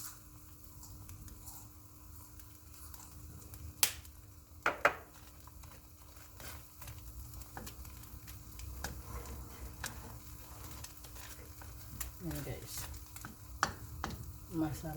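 Minced garlic sizzling in a hot pan for a beef stir fry, with a steady low crackle and spatula scrapes and clacks as it is stirred, close up, no voice.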